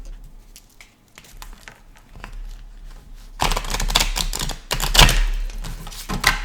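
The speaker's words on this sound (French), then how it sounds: "Hop, allez, on remélange." A deck of cards is reshuffled during a card reading. Light scattered taps give way to a dense, loud riffling patter that runs for several seconds close by.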